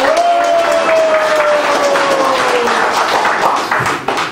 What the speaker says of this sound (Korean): 다시 한 번 더 뜨거운 박수 부탁드리겠습니다